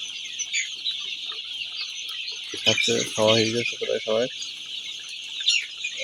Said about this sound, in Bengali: দেখেন মুরগির বাচ্চা সব ভালো আছে, আল্লাহর রহমতে কোনো সমস্যা নাই